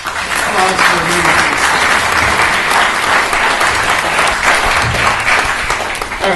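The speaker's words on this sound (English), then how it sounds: "So a big round of applause for them." Loud, sustained audience applause honoring a group of people at a talk, a dense wall of clapping with some crowd voices under it, holding steady for several seconds.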